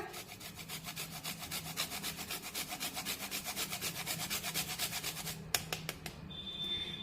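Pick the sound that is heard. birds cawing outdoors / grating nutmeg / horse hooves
grating nutmeg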